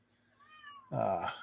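A small, underweight stray cat meows indoors: a faint thin whine, then one louder, close, strained meow.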